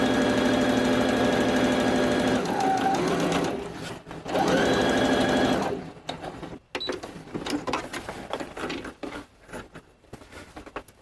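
A sewing machine runs a straight stitch on a flack vest for a custom Mandalorian costume, with steady close-up mechanical whirring in two bursts, followed by softer scattered clicks and handling noises.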